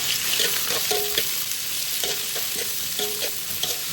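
Onions fry in hot olive oil with a loud, close, crackling sizzle, broken up by repeated scraping strokes of a spatula or spoon stirring the pan.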